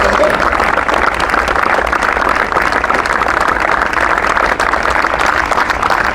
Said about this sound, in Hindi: अभी भाई तालियों के साथ जोरदार है ना